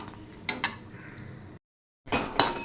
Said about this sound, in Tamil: பாதாம நல்லா அந்த நெய்யில் கொஞ்சம் செவர வறுத்து எடுத்து வச்சுக்கலாம்